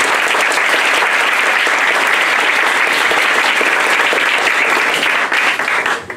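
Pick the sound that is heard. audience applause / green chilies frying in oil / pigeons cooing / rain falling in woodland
audience applause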